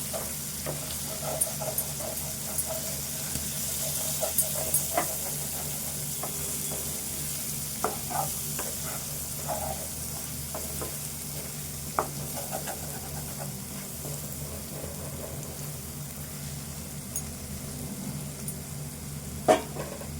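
Goat liver curry fries in a pan with a steady sizzle and hiss, with occasional scrapes and clinks of a spoon stirring, and a sharp clack near the end.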